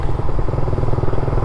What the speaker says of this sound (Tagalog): Yung pagtaas ng RPM na yun dahil sa pag-adjust ng makina.